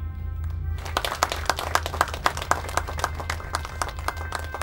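A studio audience claps to welcome players onto a quiz game show, with brisk, fairly close applause starting after a moment and continuing over a low steady hum.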